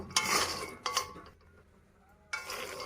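Peanuts dry-roast in a pan, heard as short bursts of loose rattling and scraping as they are stirred, separated by a quiet gap before a final burst.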